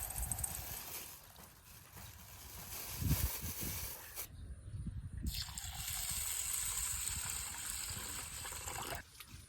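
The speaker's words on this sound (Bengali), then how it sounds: "চাল ডাল গুনে তাহলে ভালো করে ধুয়ে নিই।" Rice and lentils being washed in water for beef khichuri in a village kitchen, sloshing and gushing water with a trickling pour and brief pauses, close and fairly faint.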